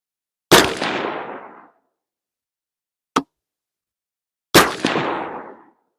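Two sharp rifle gunshots fired at a 40-yard target during scope testing, each a loud crack with a short decaying echo, spaced about four seconds apart, with a small metallic click between them.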